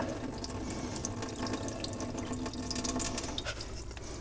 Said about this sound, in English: pour out the water.